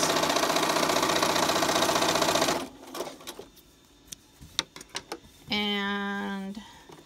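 Sewing machine stitching a cotton face mask runs loudly and steadily for a couple of seconds, then stops, leaving light clicks and handling noises before a short mechanical whir returns.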